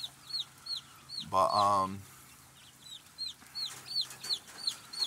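Young chicks chirp repeatedly in high, rapid peeps while hens cluck nearby. A brief spoken word cuts in partway through.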